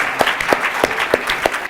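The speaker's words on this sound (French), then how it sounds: "On va quand même applaudir les deux équipes" A short stretch of applause, with a few distinct claps standing out in a steady rhythm over a soft crowd background.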